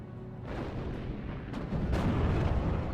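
Artillery fire in the SD44 World War II strategy game as a Panzer IV is destroyed: a rumbling barrage with sharp booms and cracks building louder, no talk.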